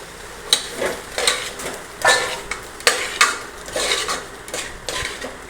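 A metal spoon scrapes and clinks against a cooking pot in irregular strokes, stirring spices with cumin powder steadily, with occasional louder knocks.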